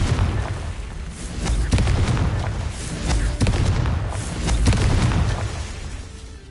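Booming fire-spell blasts from Hogwarts Legacy, several loud rumbling explosions and thumps going off in quick succession over a steady low game rumble.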